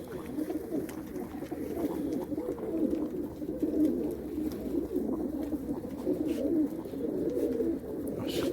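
A young female Arab tumbler pigeon coos softly and continuously close by, a low murmuring call under faint background noise.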